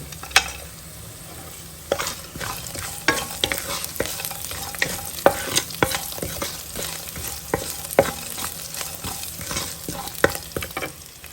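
Cashews, dried red chillies and garlic fry and sizzle in a pan, with a steady crackle broken by repeated stirring scrapes across the whole stretch; no one speaks.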